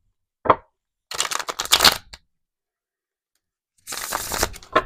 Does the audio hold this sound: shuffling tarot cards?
yes